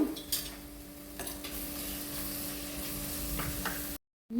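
Chili paste for a spicy prawn red gravy fries in a pan, a faint steady sizzle with a few soft stirring taps, briefly cut off near the end, no voices.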